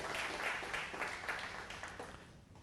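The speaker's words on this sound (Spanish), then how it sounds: "¿por qué no les damos un aplauso a los niños" A church congregation claps for the children, a fairly faint, dense patter of many hands that fades toward the end, with no talk over it.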